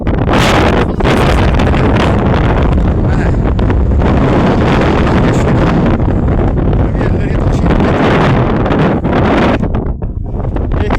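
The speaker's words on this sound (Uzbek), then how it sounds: "Shamol var ekan" Strong, steady wind buffets the microphone on a mountain summit, a continuous loud roar with rumbling gusts throughout, with a voice speaking underneath.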